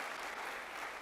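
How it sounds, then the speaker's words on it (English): A church congregation applauds during a sermon, with dense, steady clapping from many hands that fills the room evenly. "Give him a clap, everyone who is here today."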